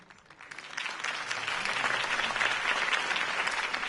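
Crowd applause in the video game Batman: The Telltale Series swells up after a campaign speech, a dense steady clapping that builds and holds loud without voices.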